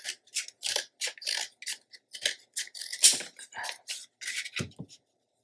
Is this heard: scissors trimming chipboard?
yes